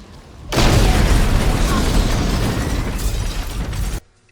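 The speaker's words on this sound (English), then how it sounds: "That's a powerful fucking grenade." A powerful grenade explodes in a dramatic TV series scene, a loud sustained blast that erupts suddenly and roars with rumbling debris for about three and a half seconds before cutting off.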